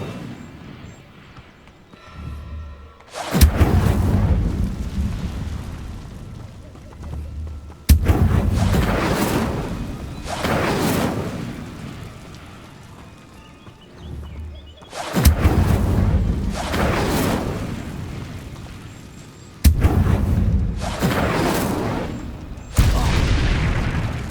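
Incendio fire spells cast in the video game Hogwarts Legacy, with four or five loud, booming whooshes of flame, each with a sharp onset and a long, fading roar, spaced several seconds apart.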